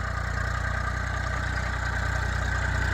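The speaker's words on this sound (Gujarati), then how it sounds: "આપણે આગળ ટ્રેક્ટર જોઈ શકો છો" A tractor engine runs at a steady idle on a farm, a continuous low throbbing rumble with a mechanical drone, close by and unchanging.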